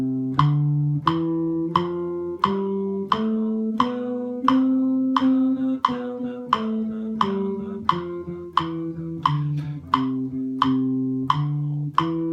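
Slow, evenly spaced guitar notes played as an alternate picking exercise, about sixteen clean plucked attacks at a steady pace, each ringing briefly, close and alone with no talking.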